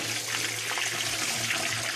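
Water pours and rushes into a replica historic submarine, a steady broadband gush that stays loud and close throughout with no talk over it.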